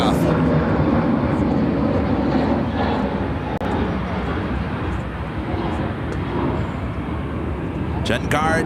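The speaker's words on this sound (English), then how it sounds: "a 777 300ER lighting up" Boeing 777-300ER jet engines spool up for takeoff at Chicago O'Hare, a loud, continuous broadband roar that holds steady throughout, with brief sharper noises near the end.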